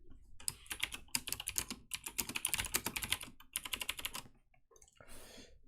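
Fast, dense clatter of keys being typed on a computer keyboard, continuous bursts with brief pauses, close and fairly loud, ending in a softer rustle.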